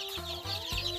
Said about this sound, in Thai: อันนี้ก็เป็นไก่บ้านเนาะค่ะ